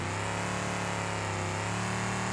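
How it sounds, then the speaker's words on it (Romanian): A Mercedes Sprinter van engine in BeamNG.drive drones loud and steady with strong low harmonics, a constant near rev without pauses or talk. "acum se aude de zici că avem V12 pe mașina asta"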